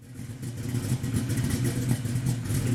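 A 1967 Shelby GT500 Mustang with a 700+ hp Boss-9 V8 and a slightly rich idle, running with a loud, steady, lumpy low burble close by and no talk.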